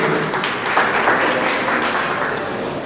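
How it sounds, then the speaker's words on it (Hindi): A gathering at the closing ceremony of a moral-education camp applauds a visiting committee official, with brief, dense clapping that swells early and then slowly tapers. "सभी जोरदार ताली से सम्मान करेंगे।"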